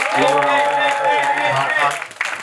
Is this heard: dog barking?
no